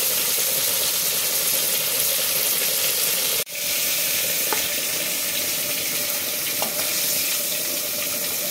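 Prawns frying in a pan of hot oil for a Bengali-style prawn curry, a loud steady hiss and crackle throughout with a brief dip partway and a few faint clicks, no talk.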